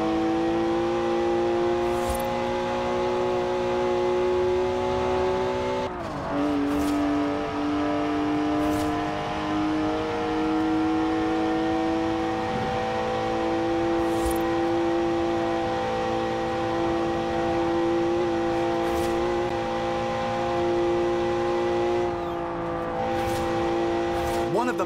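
A BMW twin-turbo straight-six of 335 horsepower in Forza Horizon 4, droning steadily at sustained revs with a sharp shift or lift partway through, with talk over it.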